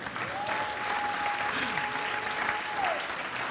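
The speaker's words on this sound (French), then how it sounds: "Applaudissez-les, s'il vous plaît." Church audience applauding at a French-language celebration service, steady sustained clapping filling the room with a faint sustained tone running through it, no words spoken.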